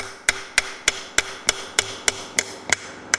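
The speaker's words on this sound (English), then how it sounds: "So I use the air hammer basically to break it free." An air hammer works a stuck part free on a Willys Jeep Dana 25 axle, striking in a steady series of about eleven sharp, evenly spaced metallic impacts over a low background hum.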